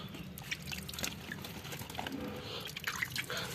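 Panchagavya solution, diluted with water, sprinkled by hand onto betel plants, giving soft, steady patters and drips of liquid falling on leaves throughout, with no talking.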